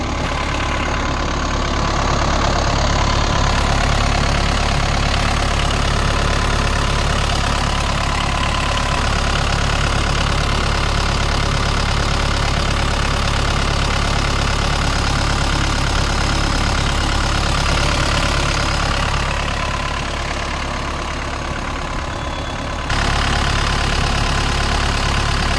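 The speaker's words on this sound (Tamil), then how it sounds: "இந்த செவர்லெட் டவேராவோட இன்ஜினோட நாய்ஸ் எல்லாமே லைவாக கேட்டிருப்பீங்க." Chevrolet Tavera diesel engine idling, a steady continuous low rumble with even mechanical clatter, held close and loud for the whole stretch with no voices.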